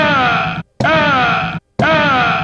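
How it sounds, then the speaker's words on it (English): Punching sound effects from the arcade video game Bad Dudes play back to back, three loud, full bursts, each with a short gap between them and no talking. "These are all the punching sounds from Bad Dudes."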